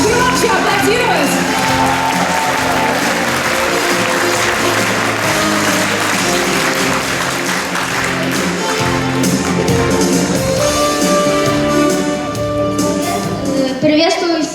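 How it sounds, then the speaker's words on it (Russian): A hall audience applauds an 11-year-old Muay Thai world champion at a forum, with sustained clapping and crowd noise under a loud voice that carries over it. "Да-да-да, можно громче аплодировать."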